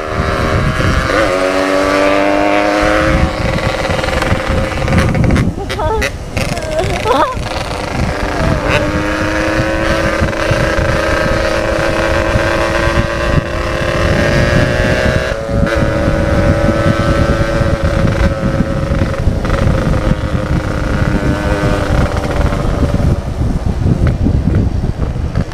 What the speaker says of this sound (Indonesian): Mengerikan, gua pakai knalpot setengah dewa.